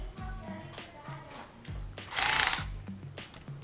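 Screws being backed out of a skateboard motor mount and back clip, close clicking and ratcheting turns in short repeated bursts with a brief louder scrape near the middle, no talk.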